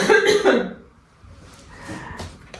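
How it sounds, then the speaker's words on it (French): A person coughs twice in quick, close succession from a pollen allergy, then a quiet stretch follows with faint background rustle. "me donne un peu des allergies et c'est pour ça que je tousse."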